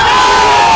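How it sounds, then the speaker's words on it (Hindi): A large protest crowd at a demonstration in Jaipur shouts together in a loud, dense, continuous roar that stays steady for the whole short stretch. "ये जो भीड़ आप देख रहे हैं ये कोई बुलाई हुई भीड़ नहीं है, खुद से आई हुई भीड़ है"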